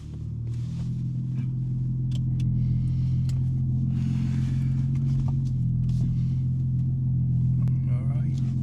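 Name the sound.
BMW M3 manual 6-speed engine and exhaust while driving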